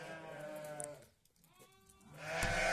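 Sheep bleat repeatedly on a village farm during lambing season, loud, close cries with a quieter dip in the middle before the calls swell again.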